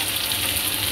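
Potato and pointed gourd dry sabzi with kasuri methi sizzles steadily in a hot pan, a dense, even frying hiss that stays close and constant with no talking.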